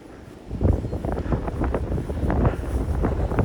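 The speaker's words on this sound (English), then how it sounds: "Winds gusting over 60 at times." Blizzard wind gusts above 60 in whiteout conditions in Hamburg, with heavy snow falling, roar steadily as a loud, rumbling, buffeting rush that swells in waves without letting up.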